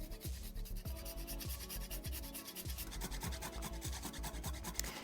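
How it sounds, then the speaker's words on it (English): Whole nutmeg grated on a grater, a quick run of rhythmic scraping strokes, close and fairly soft. "and then I grate in some nutmeg"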